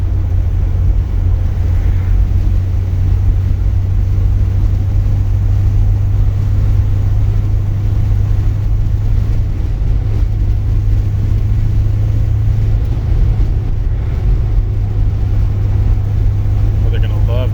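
Steady, loud interior engine rumble from a 1955 Chevy hardtop running Holley EFI, droning evenly at cruise with road and wind noise layered over it.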